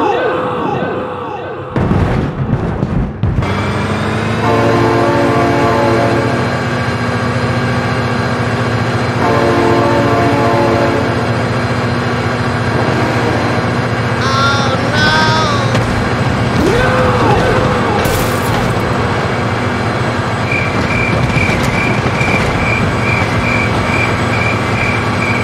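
A train in the BeamNG.Drive video game rumbles past loud and close with squealing wheels and repeated horn blasts, a long continuous roar with brief exclamations heard over it.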